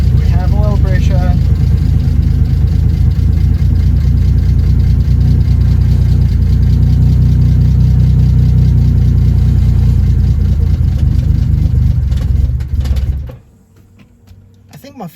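A turbocharged Mercedes W203 with an M104 straight-six idles loudly and steadily just after its first start, a deep continuous rumble that stumbles and dies near the end, with a voice talking over it.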